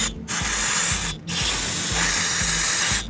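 A steady spraying hiss of fuel being poured into an Italika WS motorcycle, continuous and close, broken by two brief pauses, with a faint rhythmic low mechanical ticking underneath.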